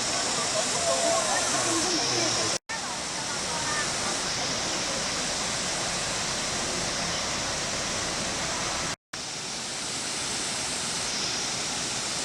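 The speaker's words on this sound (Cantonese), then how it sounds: "到咗第一個瀑布啦" The first waterfall along a hiking trail at Wutong Chai roars with a loud, steady rush of falling water, close and continuous, interrupted only by two brief cuts.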